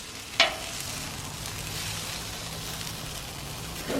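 Onions sizzling in a pan with carne asada marinade, a steady broadband frying hiss held at an even level, with one sharp clink near the start and no talking.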